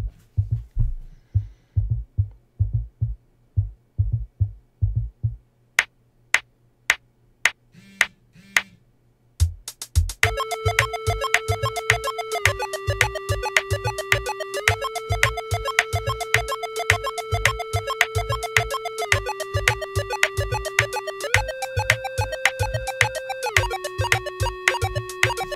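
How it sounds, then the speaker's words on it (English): A thumping beat plays alone, then a sustained synth chord in LMMS enters and its notes glide smoothly up and down between pitches over the steady pulse. "I'm going to show you what a note slide sounds like."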